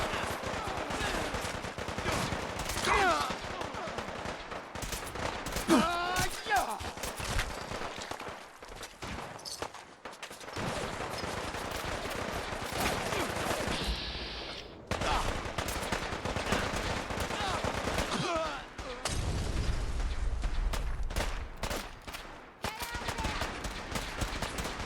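Rapid bursts of gunfire in Fallout 4 modded with Sim Settlements 2, loud repeated automatic shots crackling in clusters through the clip over game noise, with brief pauses between volleys.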